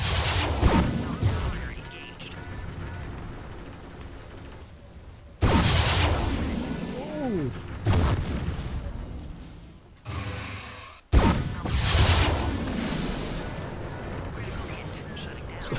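Heavy mech weapons firing in MechWarrior 3 with a weapons mod, on a canyon river map: loud booming blasts and rumbling bursts separated by short lulls, with a voice talking at times.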